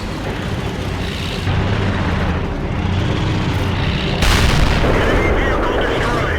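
A 12.8 cm cannon on a tank destroyer fires in World of Tanks, a heavy boom that bursts out loudly over constant engine and battlefield rumble.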